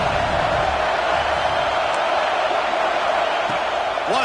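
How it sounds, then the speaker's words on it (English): Home stadium crowd in College Football 26 roaring as a steady, dense wash of noise, loud and continuous throughout, with faint whistles and shouts on top. "how nice is it to have the home crowd going absolutely bananas?"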